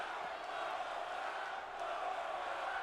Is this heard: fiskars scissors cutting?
no